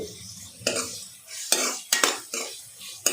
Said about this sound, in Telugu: టమాటా కొంచెం ఫ్రై అయ్యాక కట్ చేసుకున్న మిర్చి కూడా వేసేసుకోండి.